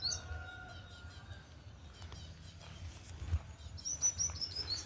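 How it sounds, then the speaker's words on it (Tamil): Sparrows in a morning garden give faint, scattered chirps and tweets, some near and some farther off, over quiet low background rumble with no voices. "இங்கே பாருங்க எவ்வளோ குருவி வந்து உட்காந்துருக்கு"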